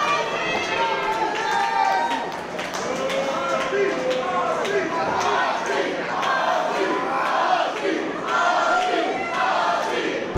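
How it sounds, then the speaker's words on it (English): A live crowd at a CCW Alive professional wrestling show cheers and shouts loudly and steadily for the whole stretch, with voices rising and overlapping in a dense, excited roar. "the crowd getting behind Killmeister, trying to will him back to his feet and back into this match"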